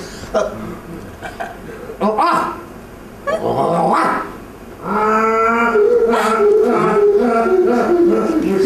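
A dog growls and makes strained, braying vocal noises at close range, with people talking around it.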